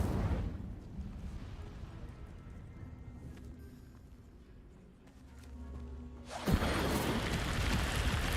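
A fiery Incendio spell cast in Hogwarts Legacy, with a low rumbling build and then a loud sudden burst of flame near the end that roars on steadily.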